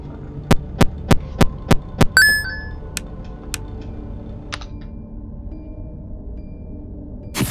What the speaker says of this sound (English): There's the power generator